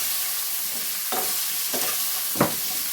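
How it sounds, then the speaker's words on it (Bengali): Broad beans are stirred in hot oil in a pan: a steady sizzle underneath, with three distinct scraping strokes of the spoon, the last one loudest. "শিমগুলোকে একটু ভালো করে তেলে নেড়ে নেব।"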